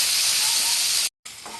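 Vegetables for Bengali sukto fry in a pan with fish roe nearby, giving a loud, steady broadband hiss and sizzle that cuts out abruptly for a moment, then resumes slightly quieter.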